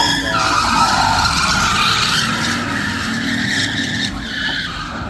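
A car drifts with its tires skidding in a long, loud squeal that wavers in pitch over a steady engine roar for about five seconds, from a driver's second time ever drifting.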